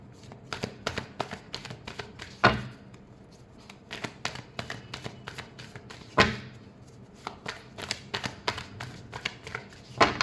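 Tarot cards being shuffled by hand, a rapid run of crisp riffling flicks and taps with a few louder snaps, continuous and close.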